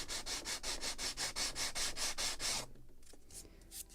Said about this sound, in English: So just a little more sanding,